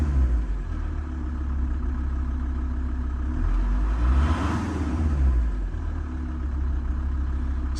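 The diesel engine of a VW T4 van idles steadily in a low, even rumble, close and continuous, with a slight flutter in the idle and no talking.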